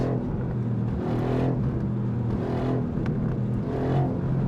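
A Mercedes-AMG GT R Pro sports car engine in race mode drones steadily at moderate speed, off the throttle, with a low burbling exhaust and road noise throughout.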